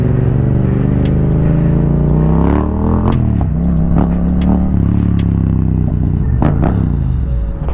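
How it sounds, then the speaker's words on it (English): A motorcycle engine idles loudly close by, its pitch rising and falling with a few revs, with sharp clicks and clatter over the rumble. "We're just revving the motorbike"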